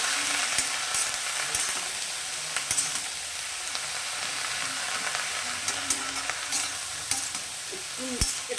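Ridge gourd, cooked down after frying, is stirred steadily in a wok, a continuous close sizzle with scattered scraping clicks of the spatula against the metal throughout.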